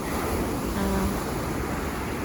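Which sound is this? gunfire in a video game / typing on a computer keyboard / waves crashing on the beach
waves crashing on the beach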